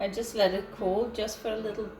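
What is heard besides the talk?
No distinct noise like a dog, phone or traffic.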